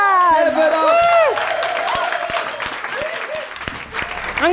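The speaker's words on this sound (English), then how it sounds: "applause. Give it up" Audience applause and cheering at a drag queen Dungeons & Dragons stage show, with loud whoops and a voice over the opening, then scattered clapping that fades and swells again.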